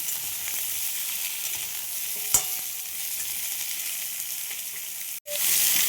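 Sour mango pieces frying in oil for a tangy dal, a steady even sizzle with one brief stir clink partway through and a sudden short break near the end before the sizzling resumes.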